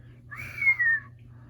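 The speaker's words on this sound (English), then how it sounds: "Josh whistled." A single short human whistle, a brief rising-then-level tone with a slight break in the middle, heard close and fairly clear over a faint low background hum.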